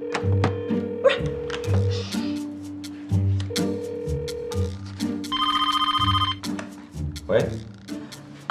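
In a TV drama scene, a phone ring burst sounds briefly in the middle of a conversation, half-buried beneath speech and background music.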